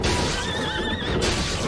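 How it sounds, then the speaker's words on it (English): A horse neighs in the video game Bloodstained: Ritual of the Night, a loud wavering whinny lasting about a second over a dense, noisy game soundtrack that keeps going around it. "I think underwater horse is very strange, but I'm okay with it."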